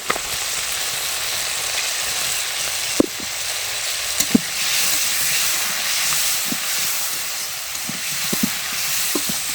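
A pan of fish frying in oil sends up a loud, steady hiss and sizzle, with occasional sharp pops and a few clinks of a utensil against the pan.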